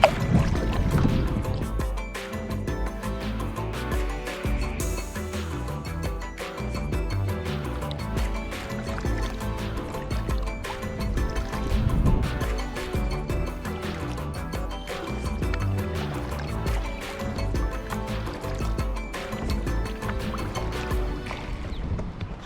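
A small boat being paddled on open water, with repeated close dips and splashes of the paddle and water dripping and lapping steadily against the hull.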